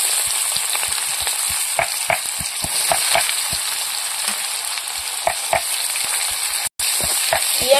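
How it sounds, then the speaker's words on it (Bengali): Onion frying in oil with bay leaf for a Sundarbans-style mutton kosha, a steady close sizzle broken by regular sharp scrapes of a spatula against the pan, with a brief dropout near the end. "পেঁয়াজটা একটু ভালো করে ভেজে নেব।"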